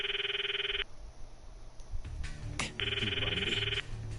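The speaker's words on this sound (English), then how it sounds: "called Mayuri's phone from my address book" Mobile phone in the Steins Gate visual novel ringing unanswered: two bursts of an electronic ringtone with a silent gap between, clear and close, with faint background clicks.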